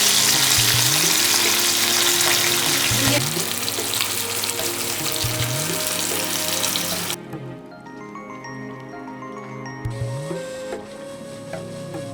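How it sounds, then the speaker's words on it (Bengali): Hilsa fish fry in hot mustard oil in a kadai, giving a loud, steady sizzle for about seven seconds that then drops to a quieter crackle with faint clinks; no one speaks. "কড়াইয়ে সর্ষের তেল গরম করে মাছগুলোকে ভেজে নিল"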